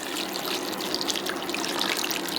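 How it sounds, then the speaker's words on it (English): Cold water pours from a pitcher into a stock pot for homemade chicken stock, a continuous close splashing trickle with no talk. "I'm gonna add in my water."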